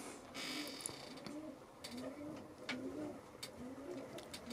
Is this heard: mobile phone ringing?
no